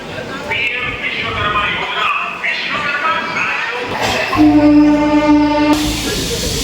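Rumbling noise of a train starting at Vijayawada Junction with a steady horn-like tone rising midway, over busy platform background and some voices.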